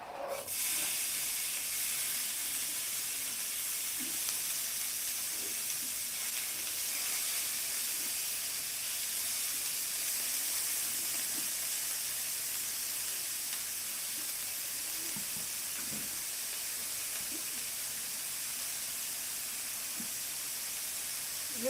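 Potatoes and onions cooking in a hot skillet for a steak-and-eggs lunch, giving a steady broad sizzle and hiss that runs unbroken, close and fairly quiet, with faint scattered pops and no voices.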